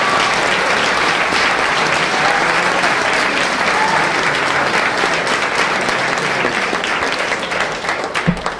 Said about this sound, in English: Once again, a round of applause for all of the winners.